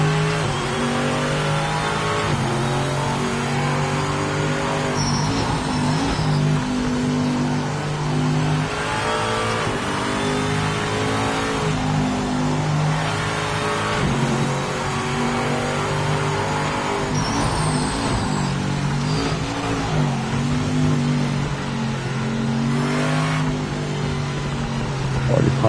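Race car engine in the Project Motor Racing video game, revving hard and droning steadily with shifting pitch, loud and continuous throughout with no talk.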